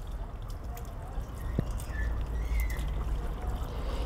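Baking soda water is poured into a cell of a sealed, sulfated battery, giving a faint trickling and dribbling of liquid that grows slightly louder toward the end, with no talking.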